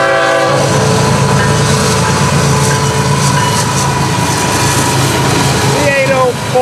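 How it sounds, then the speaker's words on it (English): Florida East Coast Railway locomotive 202 passing close on the main line, a loud steady rumble and clatter of wheels and cars with sustained horn tones, holding strong throughout. "to give you a look right down the FEC main line. This is FEC's 202."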